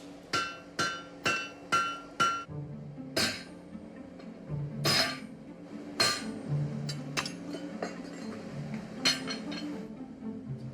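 A hot chisel hammered to cut metal in a blacksmith's workshop, a run of sharp, ringing strikes at a steady rhythm, then sparser, heavier blows with metallic clinks between.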